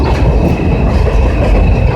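A train rumbles past close by, a steady heavy roar of wheels on rails with faint clickety-clack throughout.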